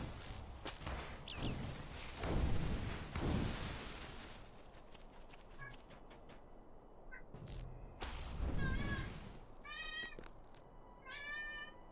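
Cat meowing several times in short rising and falling calls, mostly toward the end, close by over rustling and soft thumps, with no clear talk.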